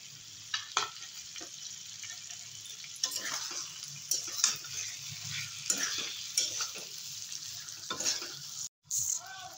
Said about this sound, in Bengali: এবারে ভেজে রাখা বেগুনটাও দিয়ে দেবো।